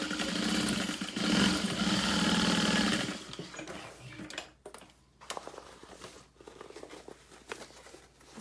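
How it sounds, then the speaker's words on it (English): A sewing machine stitches a seam along the bottom of a vinyl tote bag, running in a steady loud whir for about three seconds, then stopping into quieter handling sounds and light clicks. "sew along the bottom using a 1/2 inch seam allowance"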